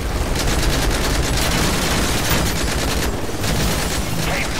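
Sustained gunfire in Call of Duty: Modern Warfare 3: loud, rapid automatic bursts overlapping into a near-continuous barrage of shots with a booming low end.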